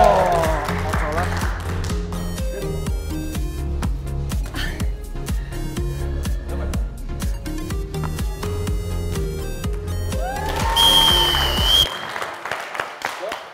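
Studio audience applause on a televised family game show: sustained clapping mixed under loud music, fading near the end.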